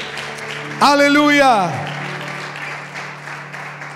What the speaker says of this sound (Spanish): Démosle el aplauso más lindo al Señor esta noche.